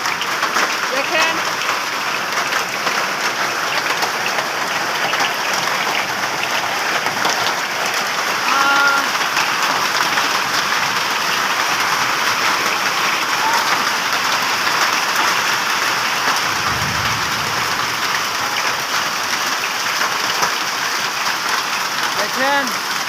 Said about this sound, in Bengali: নেত্রকোনায় আজকে শিলাবৃষ্টি হচ্ছে।